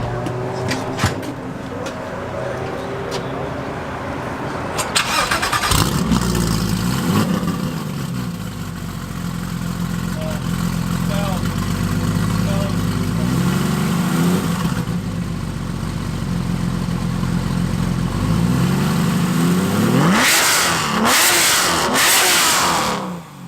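Straight-piped Porsche GT3 RS engine starts with a sharp bark, then revs repeatedly in loud, rising bursts between idle stretches, ending in a final burst of high-rev blips close to the listener.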